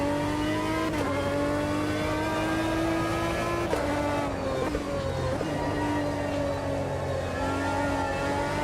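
A Maserati MC12 race car engine in the Automobilista 2 sim racing game, a loud continuous droning roar with rising and falling revs, brief shifts and dips in pitch, heard alone.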